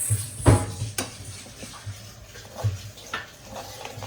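Semolina roasting in ghee in a pan, stirred with a spoon that scrapes and taps the metal in a few close, irregular strokes, with a faint low sizzle underneath and no talking.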